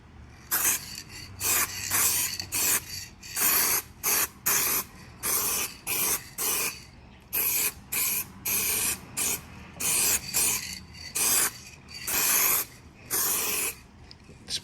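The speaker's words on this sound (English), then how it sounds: "We gonna spray a nice even coat." Repeated bursts of spray paint hissing from a can onto G-body car quarter glass trim, short sprays separated by brief pauses in a steady rhythm, close and loud.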